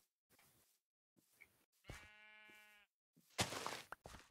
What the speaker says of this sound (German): Hier sind mehrere Schafe.